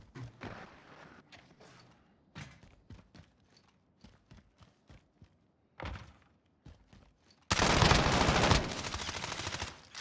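Video game gunfire: scattered single shots and short bursts with thunks, then a loud sustained burst of automatic fire near the end.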